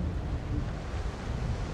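Strong wind at the Giant's Causeway on the Northern Irish coast roars and buffets the microphone in a constant rush, with surf churning underneath.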